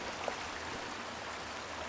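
Continuous soft sloshing of water from wading through a stream in the horror video game Outlast 2, faint and unbroken with no voices.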